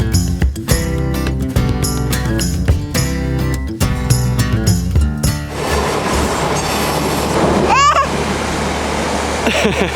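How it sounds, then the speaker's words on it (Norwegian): A passing train roars by on rails during a summer fishing trip, first heard as a rhythmic clatter of wheels over joints, then a broad rushing wash with a brief squeal near the end, loud and close. "Her var det et tog."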